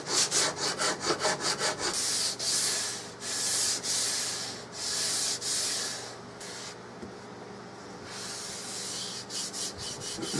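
Sandpaper of 220 or 320 grit rubs back and forth over square wood edges on a Remington Model 700 Mannlicher-style stock, giving a run of close, dry, rhythmic scratching strokes with short pauses between passes.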